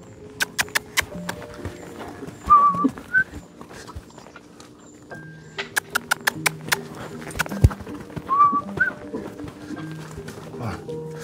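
A horse canters in an arena while practising flying lead changes, its hoofbeats thudding in a steady rhythm with sharp clicks and knocks, mixed with background noise.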